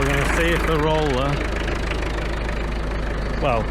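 A farm tractor engine runs steadily, a loud low idling rumble with a knocking pulse that continues throughout while someone talks over it.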